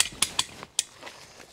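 A ratchet is cranked to tension a rope, giving sharp metallic clicks in an uneven series of about five close pawl snaps, with softer mechanical ticks trailing after and no talk.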